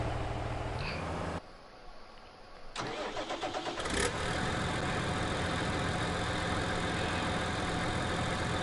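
A tractor engine cranks briefly, catches and starts, then settles into a loud, steady running rumble close by that continues to the end.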